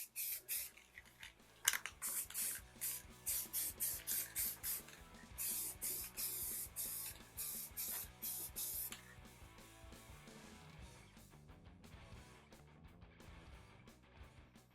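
An aerosol can sprays VHT wrinkle paint primer onto valve covers in light coats, a series of short hissing bursts in fairly regular rhythm, then quieter scattered rustling after the spraying stops.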